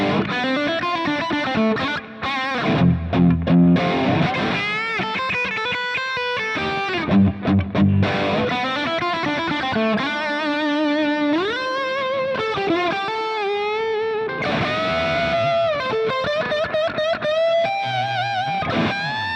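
High-gain amp driving a heavily distorted electric guitar with the mid-range scooped, playing chugging low riffs and sustained chords, loud and continuous throughout.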